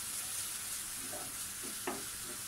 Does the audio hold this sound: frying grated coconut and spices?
yes